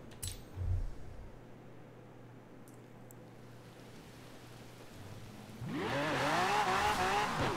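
A Mazda in Forza Horizon 4 revs up partway through, its engine note climbing in repeated rising sweeps through the gears, loud and close, over a steady background hiss that sounds like rain.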